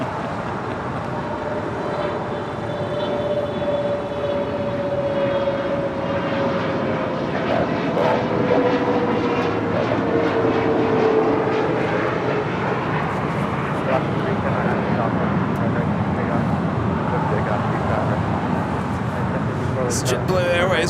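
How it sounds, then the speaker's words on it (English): Airbus A320 jet airliner at LAX, a steady loud engine roar with a slowly sliding whine as the aircraft taxis or passes nearby, continuous throughout. "JetBlue Airways Flight 2531 coming up from Salt Lake City, and this A320 will be crossing over 25 right, heading to Terminal 5"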